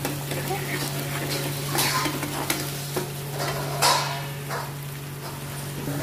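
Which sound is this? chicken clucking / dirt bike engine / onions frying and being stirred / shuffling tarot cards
onions frying and being stirred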